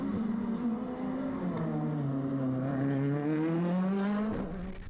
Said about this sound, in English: Peter is fully committed in his Ford Fiesta WRC car as he heads through the paddock stage area